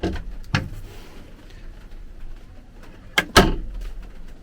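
A small handmade cabinet door in a converted van's kitchenette is worked open and shut, giving a few sharp wooden knocks and clatters, with a double bang near the end and quiet pauses between.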